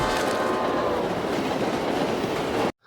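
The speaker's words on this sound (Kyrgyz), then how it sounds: "поезд аны өлтүрө сүзүп кетет" A train rushes past in a film scene, a loud, continuous roar with rattling wheel clatter that fills the clip and cuts off abruptly near the end.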